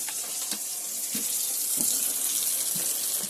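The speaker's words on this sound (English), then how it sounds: "what you're going to do is run the water through all 3 taps to get all the air out of the system" Water runs steadily from taps in a caravan, a continuous close hiss of flow with faint sputtering bursts as air clears from the system, with no one talking.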